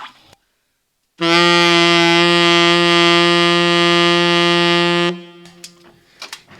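A single loud, sustained low G on saxophone blown hard, buzzy and brassy, held steadily for about four seconds before cutting off, then faint clicks.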